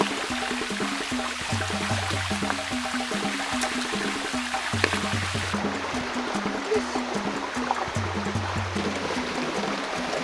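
Steady rushing flow of a river stream in a forest, where a trap is weighted down with stones against the current, continuous and fairly close with no voices.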